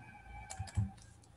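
Keys on a computer keyboard are tapped in a short, quick burst of soft, close clicks in a quiet room.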